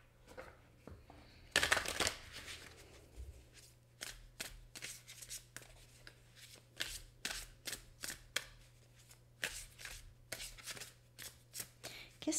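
Oracle cards are shuffled and drawn by hand: rapid papery riffles and soft flicks come in repeated bursts, close and fairly quiet, with no talking.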